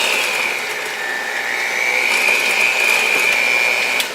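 An electric mixer whirs steadily through a cheesecake batter as sour cream is blended in, a continuous close hum with a slight rise midway and no talking.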